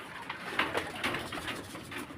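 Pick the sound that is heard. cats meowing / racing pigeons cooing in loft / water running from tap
racing pigeons cooing in loft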